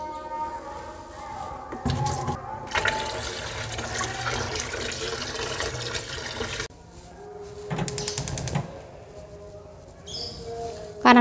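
Water runs and splashes in bursts as freshly picked spinach is washed by hand, with loud gushing stretches, quieter pauses and some faint background sound.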